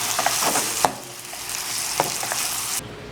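Beef and vegetables stir-fry in a hot pan with a steady loud sizzle, broken by a few sharp scrapes and clacks of a utensil stirring, before the sound cuts off abruptly.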